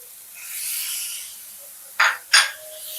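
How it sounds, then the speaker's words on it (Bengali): Ground spice paste with turmeric, chili powder and Kashmiri chili powder hisses softly in a pan for a pomfret fish curry, broken by two sharp metallic clinks of a stirring utensil. "এরপর সব একসঙ্গে মিশিয়ে নেব, নিয়ে তারপর এগুলোকে ভালো করে কষাবো।"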